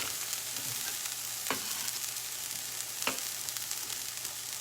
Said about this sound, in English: So I'm giving the onion a stir. It's just starting to cook lightly.